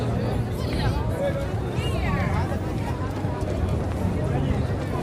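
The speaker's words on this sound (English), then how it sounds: "look at the crowd that we have here in Times Square" A dense crowd fills Times Square in New York City on a cold, windy night, with constant babble and chatter and a steady background roar, and nearby voices rise above it now and then.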